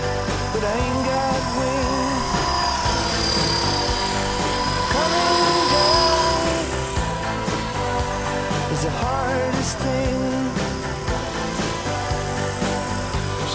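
A small RC model helicopter whines steadily, its rotor pitch rising and falling as it spins through repeated pirouettes, fairly close and loud.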